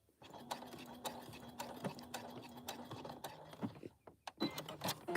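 A sewing machine runs a short back stitch on a bag, a faint mechanical whir mixed with light clicks and clacks from close handling, in quiet, uneven bursts.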